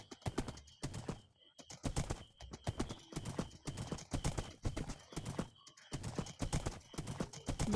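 Horses in a video game trotting in repeated bursts of rhythmic hoofbeats, close and fairly loud, with brief pauses between runs and a neigh among the steps.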